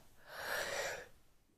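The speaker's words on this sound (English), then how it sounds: "I'm so sorry for yawning" A single long human yawn, breathy and rising to a peak before fading out, quiet and close with no talk over it.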